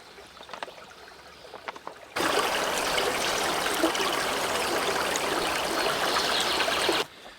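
Stream water pouring into a soft, flat collapsible bottle for a Sawyer Micro Squeeze filter, a loud, close, steady rush lasting about five seconds, with quieter outdoor ambience and small knocks before and after.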